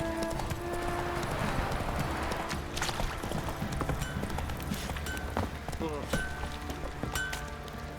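Horse hooves clip-clop steadily on the ground in The Witcher 3, a rhythmic walking gait under game ambience and dialogue.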